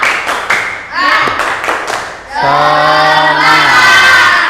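A classroom of students in an Islamic religious education lesson perform a rhythmic clapping chant, sharp unison claps in a quick pattern followed by a loud group shout of a single word, voices sustained and close.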